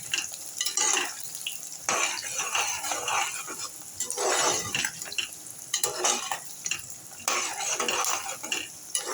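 Small onions, peeled and washed, being sautéed in a pan, quiet sizzling broken by bursts of spoon stirring and scraping against the metal, close and faint, no voices.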